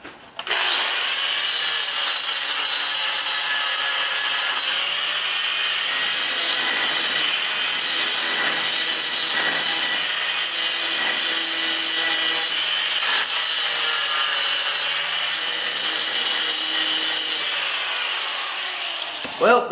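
An angle grinder held against a cast iron table throws off a loud, steady, high-pitched grinding whine that runs almost unbroken for about twenty seconds before cutting off at the end.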